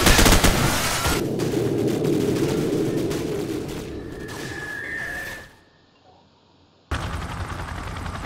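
A Call of Duty 4 firefight with dense gunfire and blasts from flashbangs and grenades. After a ringing tone the sound cuts to near silence, then the gunfire returns abruptly.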